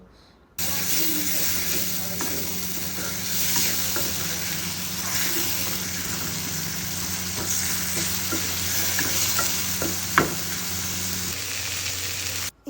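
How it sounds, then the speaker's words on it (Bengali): Garlic paste masala stirred and sautéed in a pan for a rohu fish curry, giving a steady close sizzle with occasional scrapes of the spoon, continuous for several seconds. "একটু নেড়ে চেড়ে আমি এটাকে একটু কষিয়ে নিব"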